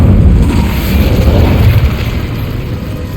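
A fiery blast from an Incendio spell in the Hogwarts Legacy video game: a loud, dense roaring burst that rumbles continuously for a few seconds.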